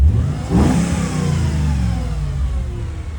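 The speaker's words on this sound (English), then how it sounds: "Sounds like a supercharger." A loud, close supercharged V8 Mercedes-AMG engine revs up sharply, then settles into a deep rumbling drone with a faint supercharger whine on top.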